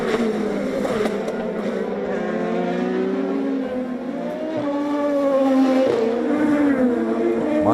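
IndyCar race cars on the final lap of a season-opening race, a loud high engine whine that rises and falls in pitch as cars pass close, several engines overlapping.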